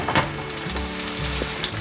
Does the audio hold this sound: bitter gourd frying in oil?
yes